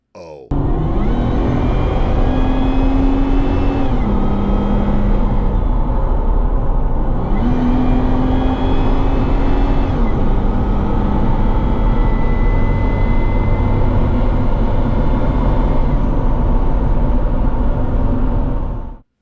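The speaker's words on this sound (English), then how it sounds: "let's listen to a Magnuson Supercharger WFO." Car fitted with a Magnuson supercharger accelerating at wide open throttle, a loud sustained engine roar with rising whine and gear shifts, running continuously up close for the whole stretch.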